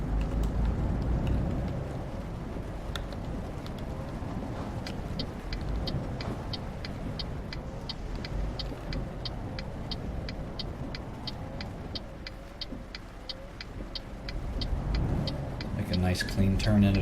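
A truck engine rumbles steadily as the vehicle pulls out into traffic in Euro Truck Simulator 2, a continuous low drone with regular ticking from an indicator or wipers layered over it.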